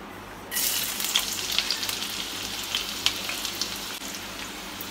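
Chopped onion, garlic and ginger hit about two spoons of hot oil in a kadai, bursting into a steady close sizzle with sharp crackling spits throughout, no voices.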